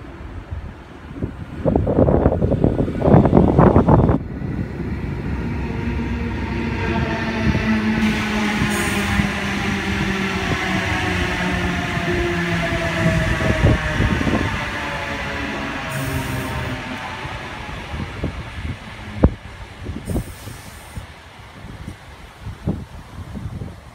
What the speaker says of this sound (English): H1 now departing platform number 2, Newcastle Interchange service.